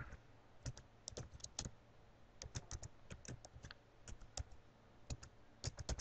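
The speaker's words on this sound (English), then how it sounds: "I'm just typing in the name down." Fingers tap on a computer keyboard while typing into a spreadsheet, a close, quiet patter of irregular clicks and short bursts of keystrokes over a faint room hum.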